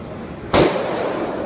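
An atom bomb firecracker bursting during Diwali celebrations in a village, one sharp loud bang that cuts in suddenly and leaves a lingering rumble.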